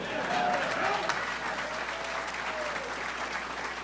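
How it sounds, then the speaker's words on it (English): A crowd applauds at the press event introducing Deion Sanders as CU head coach, dense sustained clapping with some cheering, loud and even throughout. "You got to clap for that, darn it."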